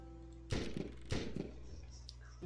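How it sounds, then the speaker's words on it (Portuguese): Gunfire from the strategy video game SOVL: two sharp, close shots about half a second apart, each with a short rattling tail, then a low game hum and faint background sounds. "Mais um disparo ali."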